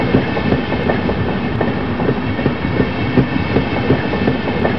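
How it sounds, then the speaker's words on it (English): Train rolling along in the video game Half-Life, a steady rumbling ride with rhythmic clickety-clack wheel beats over the rails, continuous and fairly loud throughout with no talk. "This train is inbound."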